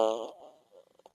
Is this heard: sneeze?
no